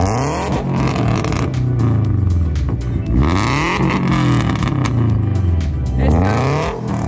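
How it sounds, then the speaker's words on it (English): A Subaru BRZ / Scion FR-S engine revs loudly in repeated surges, the pitch climbing and dropping several times in a row, close by. "This car sounds so good now."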